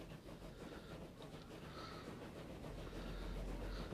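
A train passes in the railway video game Transport Fever during the 1920 era. It makes a faint, steady rolling rumble with soft rail noise, without any talk.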